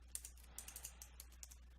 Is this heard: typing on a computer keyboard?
yes